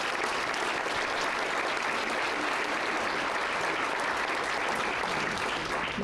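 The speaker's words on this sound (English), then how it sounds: "give another round of applause to David" Dense, sustained applause from a crowded room at the Town of Trumbull business appreciation breakfast, a continuous even roar of many hands clapping without pause for the full six seconds.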